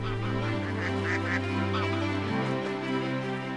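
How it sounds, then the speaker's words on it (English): Bar-headed geese honk repeatedly in a loud, layered chorus over a droning background, several birds calling close together in wetlands in China. "a flock of bar-headed geese."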